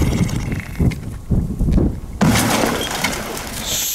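A loud burst of breaking and scattering as a firework explodes under ice, ice shattering and chunks landing after a few low thumps, close and harsh, with wind noise.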